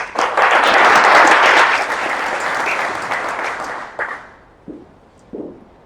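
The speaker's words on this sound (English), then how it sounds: "a round of applause" A roomful of business networking members at a Hall of Fame meeting breaks into loud applause that peaks early, thins over several seconds and fades to a few last scattered claps.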